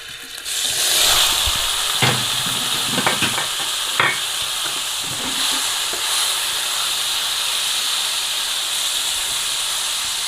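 Chicken pieces dropped into hot oil in a kadhai, a loud continuous sizzle and hiss with a few sharp spatters and stirring clatters near the start, then steady frying alone.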